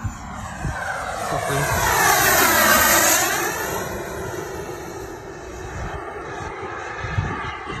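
A fixed-wing airplane climbing after takeoff, its engine drone swelling loud and close with a sweeping pitch change as it passes, then easing off while staying steady in the background.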